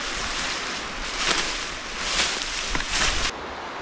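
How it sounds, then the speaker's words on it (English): Big waterfall in a remote creek valley, a steady broadband roar of falling water heard close and loud, with slight surges before it cuts off. "It's a big waterfall over here."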